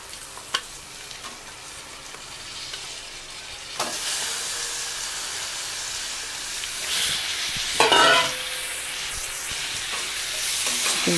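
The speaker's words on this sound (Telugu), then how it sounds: "ఇలా ఫ్రై అయింది కదా, దీంట్లో ఈ చికెన్ ముక్కల్ని వేసేసుకోవాలి." Chicken pieces dropped into a hot frying pan for a tamarind-leaf chicken curry, giving a steady loud sizzle with hissing steam and occasional stirring scrapes and clinks, no voices.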